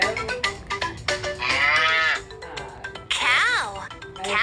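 A Fisher-Price Laugh and Learn toy plays an electronic cow moo, a wavering, tuneful call heard twice, between short bursts of the toy's recorded voice.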